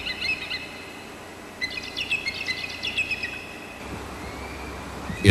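Bald eagle in Alaska's Inside Passage giving a quick run of high, thin chirping calls over a steady outdoor hiss, followed by a brief pause and a sudden low thump at the end.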